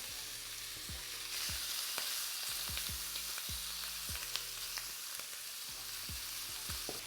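Shrimp frying in a pan give a continuous bright hiss of sizzling oil, with a few soft pops and low clicks underneath, steady and close with no talking.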